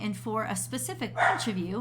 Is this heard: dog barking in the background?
yes